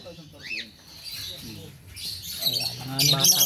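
Caged birds chirp and squawk in short, bright bursts while people sort through them and pick some out, the calls rising louder toward the end beneath nearby conversation.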